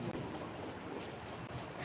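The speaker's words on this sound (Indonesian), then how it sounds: "Sebagaimana turunnya hujan pada saat ini ya Bapa" Rain falls steadily outdoors during a ceremony, a faint, even wash of dense hiss with no clear drops standing out.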